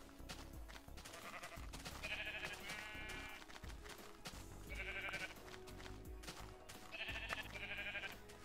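Sheep in the game Minecraft bleat several times in short separate calls, faint and set against steady background game sound and music, with no talk over them.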